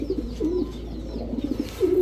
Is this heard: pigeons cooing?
yes